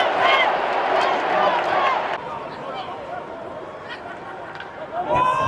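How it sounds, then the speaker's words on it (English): Baseball stadium crowd at an MLB London Series Mets game, a dense roar of chanting and chatter from thousands of fans, loud and continuous, with a voice speaking up close over it. "And listen to this crowd."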